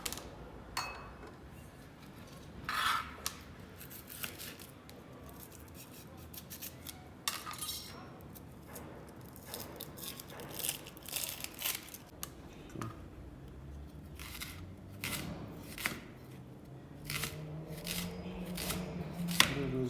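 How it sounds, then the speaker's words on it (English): Onion, chili and aromatics are cut for Korean savory pancakes, with soft irregular knife taps and chopping clicks against a board alongside faint utensil clinks, quiet and close without talk. "I'm just going to cut up some of my onion that I'll be adding in, my chili, and just basically I'll be cutting up my aromatics"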